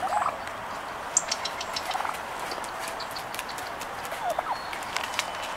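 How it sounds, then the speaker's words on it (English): Wild turkeys forage in a park setting, giving brief scattered clucks and soft calls over a steady outdoor background hiss, with a few sharper bird notes standing out now and then. "The wild turkey family decided to come in over to the park today for breakfast."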